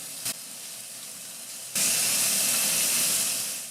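Lamb leg slices searing in a pan: a quiet sizzle with a short knock, then a sudden loud hiss as the meat hits the hot surface, continuing strongly and tapering slightly at the end.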